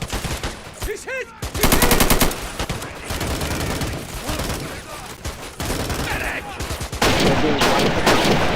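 A Pork Chop Hill battle fills with heavy gunfire: bursts of automatic machine-gun fire and scattered single shots, loud and close, under a voice talking at times.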